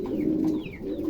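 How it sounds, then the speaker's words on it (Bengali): A bright red male pigeon of a short-faced breed coos in a steady, throaty, rolling call, close up and continuous for about a second. "এটা নর কবুতর"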